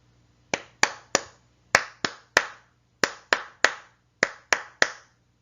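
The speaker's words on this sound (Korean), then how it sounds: "2번 리듬도 손뼉으로 2번 쳐볼 테니까 잘 들어보세요." A single person claps out a rhythm with bare hands for a primary music lesson: twelve crisp, close claps in short grouped patterns, separated by clear pauses, with no talking.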